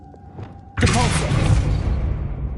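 Depulso spell cast in Hogwarts Legacy, a sudden heavy whooshing thud that swells into a rumbling burst and lingers as a fading roar, preceded by a short spoken line.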